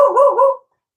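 A dog gives a single short, loud bark-like yelp up close, then silence.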